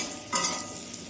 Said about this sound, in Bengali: আলুটা হালকা ভেজে নেব